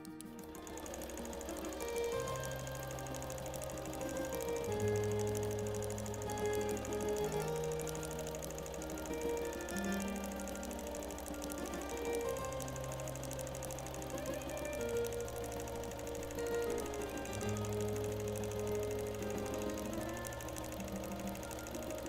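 A quilting machine stitching a free-motion meander pattern, its rapid needle chatter running steadily and close, with motor pitch shifting in stepped bursts as the stitching speed changes, no voices.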